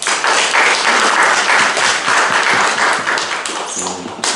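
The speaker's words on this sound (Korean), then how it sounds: "다시 한번 성가대에 위해서 큰 박수 부탁드립니다" Loud applause for a church choir from a large congregation fills the room, a dense wash of clapping that holds steady, then eases slightly at the end.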